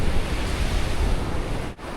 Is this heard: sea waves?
yes